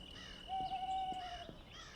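A crow cries out once, a single drawn-out call over a faint hiss of background noise, a little distant and fairly quiet.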